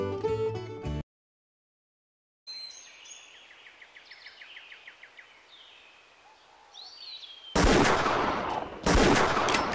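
Hunting rifle shots in the Wii hunting game Buck Fever: a brief blast at the start, then outdoor ambience with chirping birds, then two loud, heavy gunshot bursts near the end.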